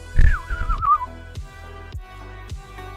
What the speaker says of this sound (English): Do you hear me whistle then?